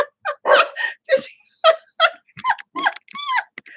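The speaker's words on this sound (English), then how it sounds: "He's barking at his damn self." A dog barks at its own reflection in a camera screen, a close, loud series of about ten sharp, irregular barks and yelps with short gaps between them.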